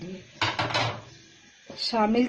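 Barley and wheat go into a cooking pot for haleem with a brief clatter and rattle of grain and metal in two short bursts, close and moderately loud.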